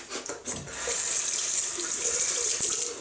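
Water runs from a tap to wet the hands during a wet shave. After a few brief splashes it becomes a steady, close, hissing stream.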